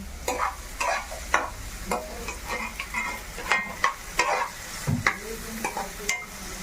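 Beetroot and salt being stirred in a hot pan, with a utensil scraping in quick irregular strokes over a soft sizzle, close by and with no talk.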